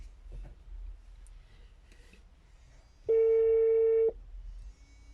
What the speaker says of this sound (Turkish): Ev telefonu arıyor arkadaşlar.